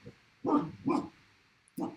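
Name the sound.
dog barking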